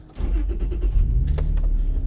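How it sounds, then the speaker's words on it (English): A car engine cranks over and catches, a short starter whir settling into a low steady idle, close by and loud with no talk. "didn't even fucking actually turn the car on"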